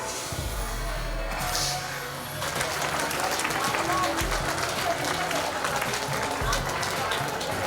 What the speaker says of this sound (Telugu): చప్పట్లు కొట్టాలి అందరూ